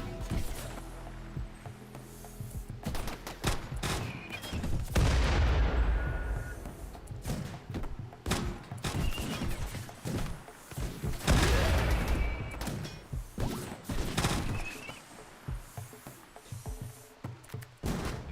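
Scattered gunfire and thudding impacts from a RimWorld colony battle, repeated sharp shots and booms at uneven intervals, some louder and closer than others, carrying on throughout.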